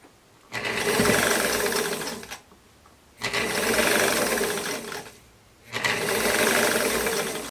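A sewing machine topstitching wide-leg dress trousers close up, running in three steady whirring bursts separated by short pauses.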